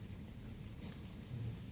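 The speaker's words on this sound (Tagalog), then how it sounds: "Umuulan na guys." Rain falling steadily in Singapore, a continuous low rushing wash with a faint rumble of thunder building slightly near the end, heard alone without voices.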